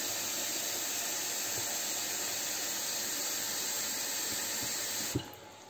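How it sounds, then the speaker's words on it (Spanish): Cold water poured steadily into a cooking pot for a Spanish bean and chickpea stew, a continuous loud hissing rush that cuts off abruptly near the end, leaving a brief quieter tail. "Vamos a cubrir con agua. Vamos a echarla con el agua fría."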